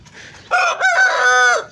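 A young Aseel rooster about ten months old crows once nearby, loud and drawn out over a second, breaking briefly in the middle before a long held note, with no talk.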